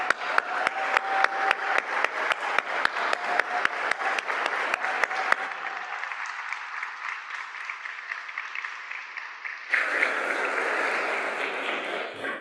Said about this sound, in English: I invite the congregation to join me in a round of applause for these wonderful folks